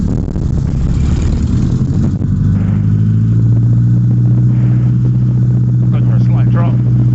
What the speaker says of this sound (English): And then we're just going to run the engine up,